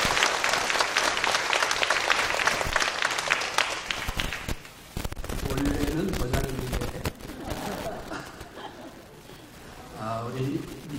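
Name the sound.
congregation applauding in church service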